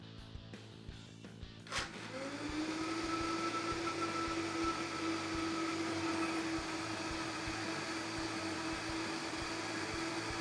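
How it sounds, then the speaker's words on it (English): A kitchen blender whirs up to speed while blending blanched chives with oil, the motor rising in pitch after a short rattle, then holding a steady, loud drone with a constant whine until the end. "Put them into the blender."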